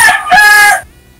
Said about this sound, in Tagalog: Ang dami mong manok dyan?